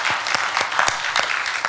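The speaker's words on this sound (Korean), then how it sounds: "우리 축복하고 감사하는 박수 하겠습니다" Congregation in a Sunday church service claps in blessing and thanks, a brief burst of many hands with a few distinct sharp claps standing out over the steady patter.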